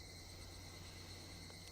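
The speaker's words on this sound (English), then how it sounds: "Only the cry of the cicadas remained, annoyingly loud" Cicadas or similar insects keep up a continuous, steady high-pitched drone, faint and constant throughout with no pauses and no one talking.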